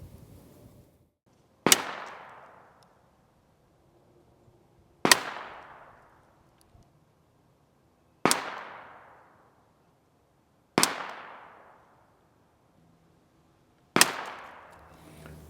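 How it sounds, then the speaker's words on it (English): A Ruger .22 pistol fires Federal Gold Medal Match ammunition at a 50-yard target: five loud, sharp shots spaced about three seconds apart, each cracking sharply and ringing out into a short decaying tail, with no talking. "5 shots. Federal gold medal match at 50 yards."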